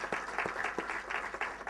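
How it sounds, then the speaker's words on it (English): Audience applause at a bank audit seminar, steady dense clapping from a crowd filling the whole short stretch, moderately loud with no talk over it. "I request all of you to give a thunderous applause for all his efforts in this profession."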